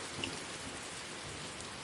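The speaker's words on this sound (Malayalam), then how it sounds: "അവിടെ ഇവിടെയായി ഓടുകൾക്കിടയിലൂടെ മഴത്തുള്ളികൾ ഒലിച്ചിറങ്ങുവാൻ തുടങ്ങി" Rain pours steadily onto a tiled roof and drips down through the gaps between the tiles, a dense, even hiss with no break and no voices.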